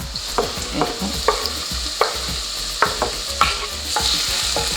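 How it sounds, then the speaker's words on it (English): Steady sizzling hiss of onions frying in hot olive oil, with occasional stirring clatter and scrapes breaking through at irregular intervals. "I'm just going to add the onion to the olive oil. You can hear it sizzling now."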